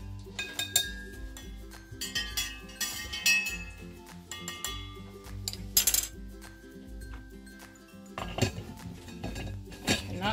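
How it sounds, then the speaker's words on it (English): Food is stirred in a dish with a utensil, giving irregular clinks and scrapes against the dish in close, quiet bursts, with short pauses between them. "Give those a stir."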